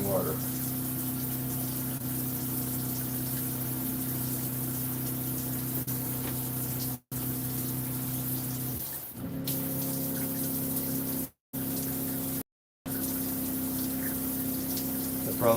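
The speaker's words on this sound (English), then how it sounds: "that should run water tank water into the bilge" Water from a boat's tank runs into the bilge with a steady gushing flow, mixed with a constant humming pump drone that briefly cuts out a few times.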